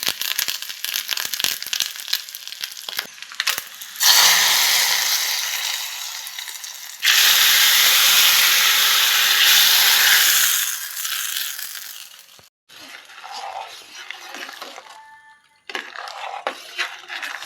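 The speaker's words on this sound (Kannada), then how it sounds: "ಒಂದೆರಡು ಕರಿಬೇವಿನ ಸೊಪ್ಪು ಹಾಕುವ." Curry leaves and a tempering of garlic, mustard seeds and chillies hit hot coconut oil, giving loud bursts of crackling sizzle that swell and fade in waves, with clattering and scraping between them.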